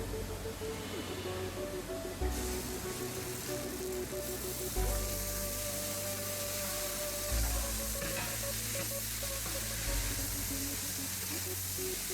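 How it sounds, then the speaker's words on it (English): Rice is stirred in hot oil for a pine nut pilaf, giving a steady close sizzle with periodic scraping stir strokes throughout. "Stir for 2 minutes and add the rice."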